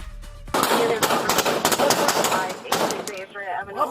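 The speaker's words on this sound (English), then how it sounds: "12-5-1, officer needs help, shots fired" Gunshots fired during a police incident in Los Angeles, a rapid burst of loud, sharp cracks in quick succession that starts abruptly, with chaotic voices and noise mixed in.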